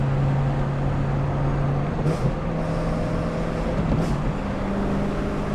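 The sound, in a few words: sports car exhaust with valves closed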